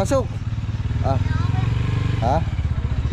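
A motorcycle engine idles and revs steadily with a low rumbling drone throughout, close by, while people talk over it.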